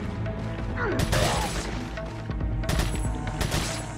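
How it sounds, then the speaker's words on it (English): A TMP submachine gun fires in sharp bursts in the survival horror game Resident Evil 4, loud close shots in two or three clusters over game ambience. "I'm gonna use my TMP because I'm running out of bullets here."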